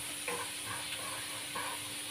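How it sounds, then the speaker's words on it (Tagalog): Garlic sautéing in a hot pan, a soft continuous sizzle with a few brief stirring scrapes, close and moderately quiet. "susutin lang natin ang ating garlic"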